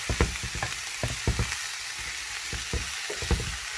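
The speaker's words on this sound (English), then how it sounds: "I'm just giving that a stir." Choy sum and bean sprouts tossed in a hot wok for a stir-fry, giving a steady sizzle punctuated by repeated sharp scrapes and clatters of the utensil, close and fairly loud.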